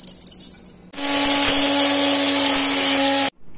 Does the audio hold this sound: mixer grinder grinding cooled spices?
yes